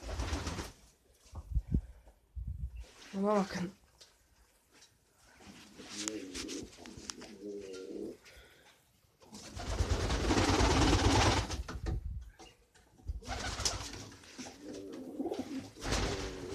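Pigeons coo in a corner beside their nest, soft repeated rolling calls coming and going between stretches of someone talking and bursts of rustling noise.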